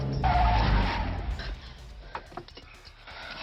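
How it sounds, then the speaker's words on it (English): Aston Martin and Ferrari racing each other in a Bond film, tires skidding in a loud screeching burst at the start that fades into quieter engine noise and scattered clatter, with some indistinct voice-like sound. "Bond is with a woman in his classic Aston Martin, and then gets in a race with another woman driving a shiny new Ferrari"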